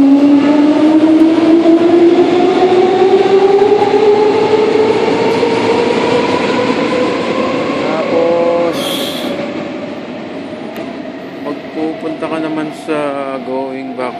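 A regional train at Mainz station gives off a rising electric whine as it pulls away. It is loud and close over a rumbling bed, with brief squeals and a chime near the end, and voices faintly in the background.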